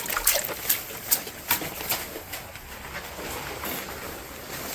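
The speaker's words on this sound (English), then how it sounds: "what I'm going to do is wash my brush, or else the brush will set hard if you don't wash it" A plasterer's brush rinsed and swished in a bucket of water while making plaster crown moulding, giving soft repeated splashes and trickles with a few sharper dips early on, close and moderately quiet.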